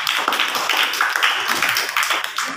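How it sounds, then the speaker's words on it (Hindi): Schoolchildren in a government school classroom clap together in a dense, bright burst of many hands, sustained and near throughout, not a single clean clap. "एक बार ताली बजा दो तो।"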